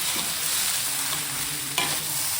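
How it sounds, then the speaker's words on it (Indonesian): Rice is stirred with oyster sauce in a frying pan for Hainanese chicken rice, giving a steady sizzle broken by scraping strokes and one sharper clatter near the end, close and continuous with no talk. "Nah, ini kita aduk kembali biar merata."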